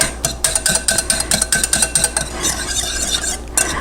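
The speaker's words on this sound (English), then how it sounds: "So we want to just keep whisking and whisking and whisking" A whisk beats rapidly against a bowl while whipping salad dressing, a loud close rhythmic clatter of quick metallic strokes that blur into a steady scraping swirl near the end, with no talking.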